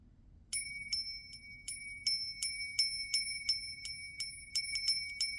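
A small bicycle-type bell rings in a quiet room, struck again and again in quick, uneven bursts, each strike bright and clear with a shimmering ring that lingers.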